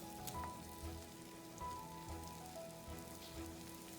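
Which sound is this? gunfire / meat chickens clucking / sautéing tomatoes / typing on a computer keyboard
sautéing tomatoes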